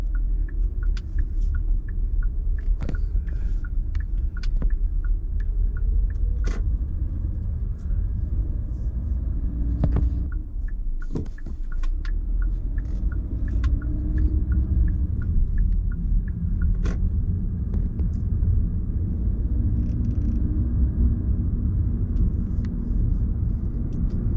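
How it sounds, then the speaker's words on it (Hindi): Road traffic crossing a bridge over a river makes a steady, low rumbling drone of passing cars and engines, with a few faint clicks and knocks over the constant hum. "ट्रैफिक चल रहा था नदी के ऊपर।"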